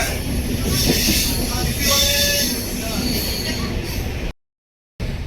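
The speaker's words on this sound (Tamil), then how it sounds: "ட்ரெயின் மூவ் ஆகிடுச்சு" A moving train makes steady, loud rail rumble and clatter, with high wheel squeal and a faint tonal whine. A few indistinct voices sit in the background, and the sound cuts out briefly near the end.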